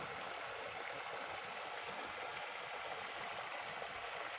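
Irrigation water for a small garden with chilli plants flows steadily, a faint continuous rushing trickle with no breaks and no talk.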